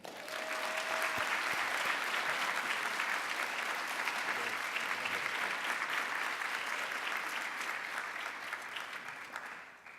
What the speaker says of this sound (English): Let's give a round of applause to Mr. Les Payne.